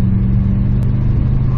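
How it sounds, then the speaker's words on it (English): V8 engine of an old luxury car with a misfire pulling hard under acceleration, a steady loud low drone heard from inside the cabin with no talk. "She does have a V8 engine, after all."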